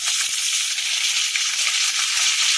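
Chopped egg and carrot go into a frying pan with lightly fried vegetables, giving a continuous close, loud sizzle with small crackling bursts and no talk.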